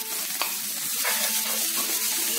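Onion frying in hot oil in a pan, a steady close sizzle with a few soft stirring scrapes, no voices.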